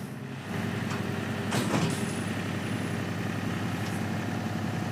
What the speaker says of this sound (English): So I'm gonna go get the tractor and hit this in high gear and just force it on.